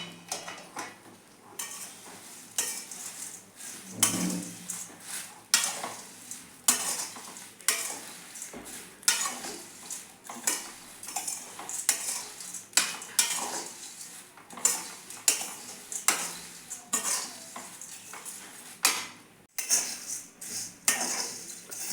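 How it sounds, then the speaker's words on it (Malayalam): Flattened rice (aval) dry-roasts in a hot pan while a metal spoon stirs it constantly, producing rapid rhythmic scrapes and clinks against the pan over a soft crackle, close and continuous, with no voices. "നല്ല നമുക്ക് ഇളക്കി കൊടുക്കാം"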